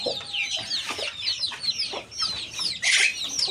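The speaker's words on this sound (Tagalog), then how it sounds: "May rooster pa pala tayo dito sa ilalim." A rooster kept at a poultry yard in Tarlac City gives close, busy clucking calls in quick, uneven bursts, with a sharper call near the end.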